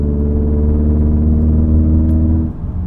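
A car engine in fifth gear, floored from around 50 mph, gives a loud, steady low droning rumble that holds for over two seconds and then shifts slightly near the end.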